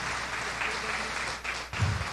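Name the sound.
church congregation applause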